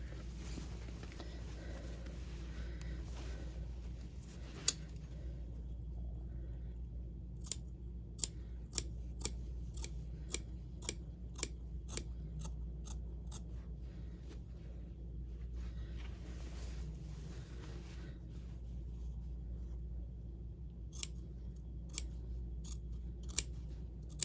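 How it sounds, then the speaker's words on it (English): Scissors trim excess zipper tape and seam allowance at a garment neckline, giving quiet, sharp snips in small clusters with long near-silent pauses between them. "we can cut off that excess zipper tape that's at the top of our neckline"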